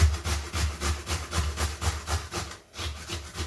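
A large hand-sized potato grated on a grater, rhythmic rasping strokes repeating steadily about three times a second, close and fairly loud, with a brief pause near the end.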